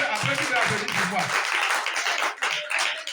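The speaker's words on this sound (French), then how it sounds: "Applaudissez pour Jésus." A Bible-lesson audience claps for Jesus, a dense patter of many hands that swells and fades, mixed with voices and chatter.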